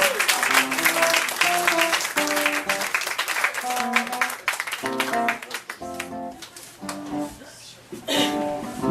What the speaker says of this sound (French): Mélanie, applaudissez-la encore une fois, s'il vous plaît, mesdames et messieurs.